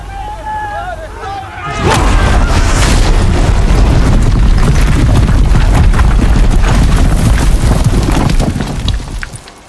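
Cannons fire in a battle scene in the video game Horizon Zero Dawn. After a quieter opening, a sudden, massive boom swells into a loud, sustained roar of blasts and rumble that fades slightly at the end.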